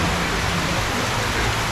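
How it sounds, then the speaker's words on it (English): Rain falling in Bangtao, Phuket, a dense continuous hiss of drops at close range, steady and fairly loud. "Rain."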